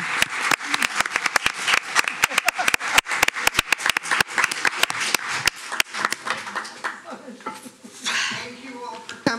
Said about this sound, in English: join me in a round of applause to thank the candidates for their time